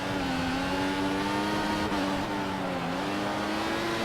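Formula 1 race cars in F1 2014 at Suzuka, a steady high-pitched engine whine held near and loud, the pitch wavering slightly with throttle and gear changes, with no talking.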